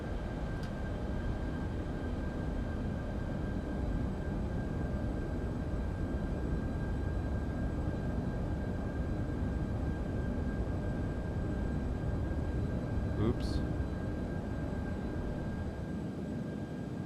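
Steady, loud jet engine roar with the afterburner lit in the X-Plane 12 flight simulator, a broad continuous rumble that holds level throughout with a faint high whine above it.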